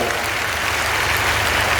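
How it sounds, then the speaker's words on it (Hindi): At an outdoor political rally for Bihar chief minister Nitish Kumar in Kaimur, a large crowd claps in a loud, continuous, even roar of applause with a low rumble beneath it. "नीतीश कुमार जी का जोरदार ताली बजाकर स्वागत करने का काम कीजिए"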